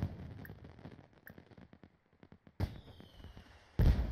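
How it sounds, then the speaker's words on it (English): Fireworks in The Sims 4 game: a series of sharp crackling pops and bangs, some distant and some close, ending in two loud bursts, with no talk. "There's fireworks and stuff"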